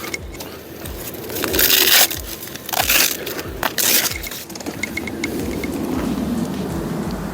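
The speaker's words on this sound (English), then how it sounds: "I'm just gonna unstrap all of these straps" Straps come off a mobility device held on a ComfyGo GoLift car lift, making close scraping and rasping bursts of buckle and webbing noise over a steady outdoor background.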